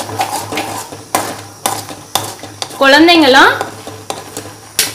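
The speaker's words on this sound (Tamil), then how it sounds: "கொஞ்சம் நல்லா கிண்டி விட்டுட்டே இருங்க அடி பிடிக்காது" Urad dal porridge stirred in a pot, a spoon scraping and knocking against the metal in repeated strokes, with a voice talking over it and a short high child-like voice in the middle.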